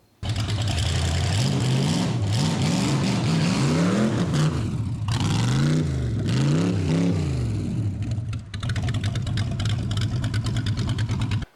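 A hot rod's engine revs up and down repeatedly, loud and close, with rising and falling pitch as the car drives, then settles into a steady running drone.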